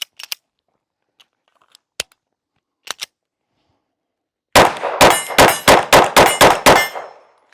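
A 17-round magazine from a Sig P365 X Macro is handled and seated into a Sig P365 Fuse pistol, giving a few sharp metallic clicks followed by a rapid series of about eight loud clacks in quick succession.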